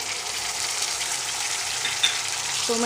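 Thecha and finely chopped tomato fry in a pan with a dense, steady sizzle that continues throughout, loud and close, with only a faint clink near the end.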